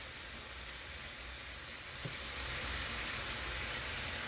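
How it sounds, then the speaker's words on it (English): Half a stick of cut butter melts in a hot pan, giving a steady broadband sizzle and hiss that holds through with a brief soft knock midway, rising slightly louder toward the end. "Just going to go ahead and get it tossed in. And just allow the butter to melt in there."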